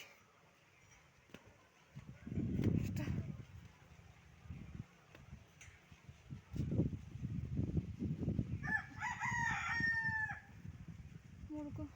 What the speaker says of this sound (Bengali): মুরগাগুলি শুধু ডাকছে আর ডাকছে।